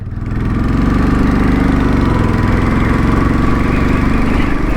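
Royal Enfield Bullet 500 single-cylinder motorcycle engine running steadily nearby, a loud, even thumping idle that rises quickly and holds without voices.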